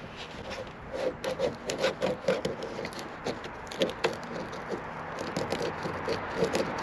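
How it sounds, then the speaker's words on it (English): Rough scrubbing and rubbing at sticky gunk and duct tape residue on a Triton bass boat, close irregular rasping strokes in short bursts with pauses, fairly quiet, no talking. "I'll try to clean that sticky gunk and duct tape stuff out."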